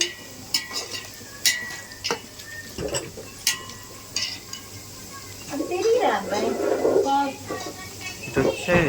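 Onions and green chillies frying in a pan, with scattered clinks and scrapes of stirring over a low sizzle, and a person talking in the middle of the clip.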